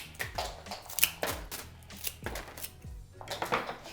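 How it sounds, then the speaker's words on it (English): Fresh flower stems from a blush satin bouquet being cut, giving a string of crisp snipping and chopping sounds in an irregular rhythm, close up with no voice. "So to hydrate them, I'm going to cut off about 3 to 4 inches."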